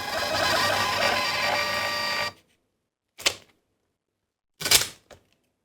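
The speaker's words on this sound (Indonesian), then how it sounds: "Ready to print. Terus kita tes cetak." A USB EPOS receipt printer for 58 mm paper runs a test page, a loud continuous mechanical whir lasting about two seconds, then stopping, followed by two short separate bursts of feed or cutter noise in the quiet.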